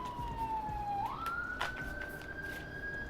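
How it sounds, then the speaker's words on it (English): Police-type siren wailing from the street below an apartment, a single steady tone that dips then sweeps upward and holds, moderately near over faint traffic rumble. "it's all type of sirens over here"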